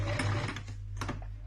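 Short run of a manual sewing machine, worked by pedal, stitching fabric for a small makeup-remover wipe, a close mechanical whirring with a low steady hum and a couple of brief bursts, with no talking.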